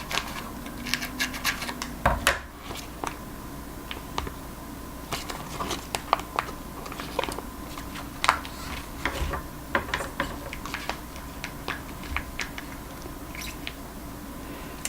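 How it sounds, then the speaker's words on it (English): Scissors cutting open a cow eyeball during a dissection, a long series of small close crisp snips and scratchy clicks over a low steady hum. "I'm going to go ahead and cut open the eyeball"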